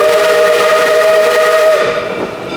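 A steam locomotive's whistle blows on a mountain railway near Mount Rainier, one loud, sustained, close chord that holds steady for about two seconds before cutting off into lingering rumble.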